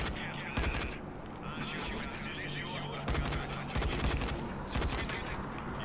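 Gunfire from a weapon in the zombie game Dying Light, coming as repeated loud bursts of shots spread across the clip over a steady background of game noise.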